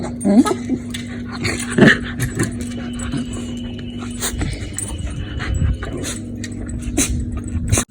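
A dog whimpers and whines in short high bursts, close by, with panting and bits of nearby talk.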